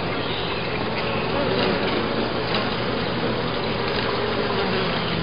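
Dense, steady buzzing of a mass of honey bees swarming over a comb-covered hive frame during a swarm hive inspection, loud and close, continuous throughout with no talk.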